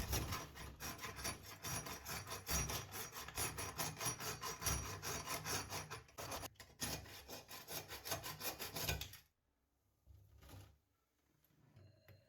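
Rapid back-and-forth rasping of a hand saw cutting off a metal Bristan shower valve, steady strokes for about nine seconds, then stopping with a few faint scrapes afterward.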